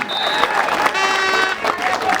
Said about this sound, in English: I want us to give ourselves a round of applause for doing what was right today by coming out and marching.